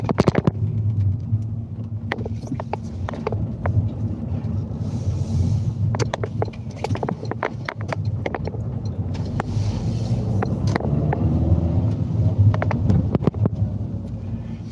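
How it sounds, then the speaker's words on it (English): Cars pass steadily on a nearby road, a continuous low rumble of traffic with wind buffeting the microphone and scattered clicks, with no talking. "You can hear the other cars."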